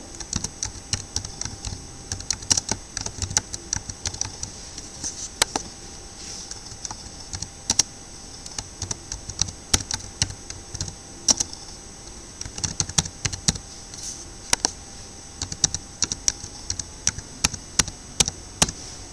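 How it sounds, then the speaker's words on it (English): Fingers type a record on a computer keyboard, brisk uneven runs of crisp close key clicks with short pauses between bursts, alone without talk. "Here you can type the second record."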